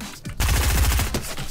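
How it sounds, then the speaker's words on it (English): Rapid automatic gunfire in a Fortnite match, a loud, tight burst of closely spaced shots lasting about a second. "So there's people shooting already?"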